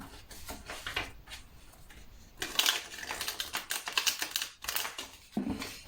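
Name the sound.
shuffling tarot cards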